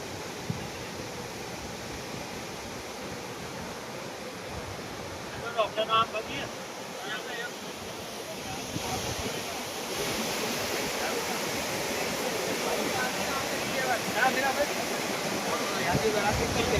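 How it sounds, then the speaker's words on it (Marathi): Lingmala waterfall near Mahabaleshwar, a steady broadband roar of rushing water that fills the scene throughout, growing slightly louder in the second half, with brief faint voices in the background. "आहे लिंगमळा वॉटरफॉल आणि समोरच पुढे पुढे गेला की इकडे डोह पण आहे"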